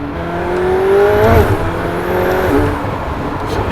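A McLaren 720S Spider sports car accelerates hard, its engine note climbing through two rising sweeps with a brief shift dip between them, loud and close from inside the car.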